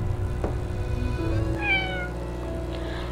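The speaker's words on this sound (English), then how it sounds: "I hear meow, I hear meow. Where's that kitty?" A cat meows once in a video game, drawn out and falling in pitch, over a steady low background hum and music-like drone.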